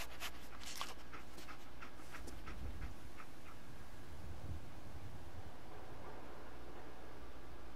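Dogmeat, the dog companion in the Fallout 4 video game, pants in quick rhythmic breaths over a steady windy background hiss, the panting fading after a few seconds while the game ambience continues.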